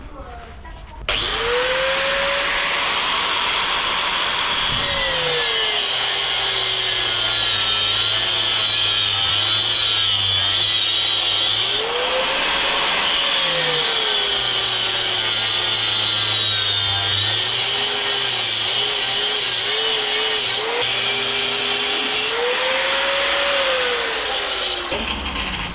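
Angle grinder cutting through a Giant e-bike wheel, a loud, close, continuous high whine that dips and rises in pitch as the disc bites, with rough scraping grit underneath throughout.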